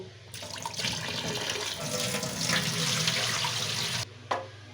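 Cut potatoes are washed under running water in a sink, a steady splashing flow that stops abruptly, followed by a brief drip and clatter.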